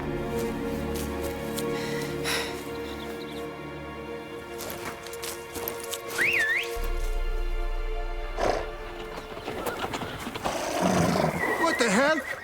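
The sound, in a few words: horses neighing, from the video game The Witcher 3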